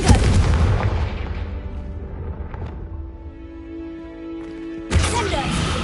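Confringo spell blasts in Hogwarts Legacy on PS5. A loud, close explosion opens and fades into a ringing tail, then a second sharp burst hits near the end, with a voice calling out over the action.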